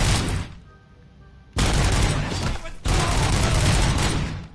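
Sustained automatic gunfire from the Robocop: Rogue City video game comes in loud, dense bursts, cutting out abruptly mid-stream for about a second before resuming in two long continuous volleys.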